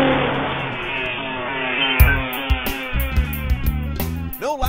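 A 2009 Cadillac Escalade Hybrid SUV drives along, its engine humming steadily and rising in pitch as it accelerates, loud and close, with music playing over it.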